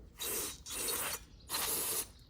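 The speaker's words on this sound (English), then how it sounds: "You can take a little carb cleaner like this, cover that hole," Three short bursts of carburetor cleaner spray hiss in quick succession, each about half a second long, close and fairly loud, while working on a lawn mower.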